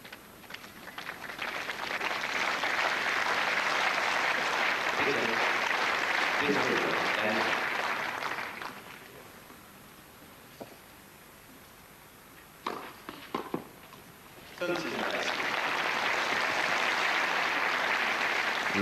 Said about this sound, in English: the crowd here in Berlin really trying desperately to urge Graf on to better things